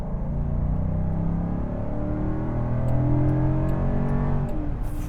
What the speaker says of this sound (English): Throwing this into the turns, we just got to hear that V8 again.